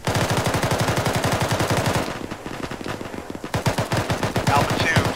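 Sustained automatic gunfire in the Arma military game during a ShackTac squad firefight, rapid regular bursts for two seconds, a brief lull of scattered shots, then heavy rattling fire resuming, loud and close.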